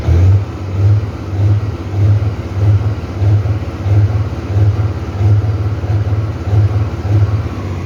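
A 500 hp Freightliner truck diesel engine rumbles loudly and close, its low throb pulsing in a regular, evenly spaced rhythm like a steady idle or rhythmic revving, with no voices over it.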